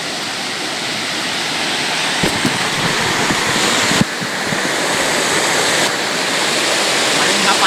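Clear forest stream water rushing in a jungle in the Konkan, a steady broad wash of flowing water close by, with a few faint knocks and brief voices underneath.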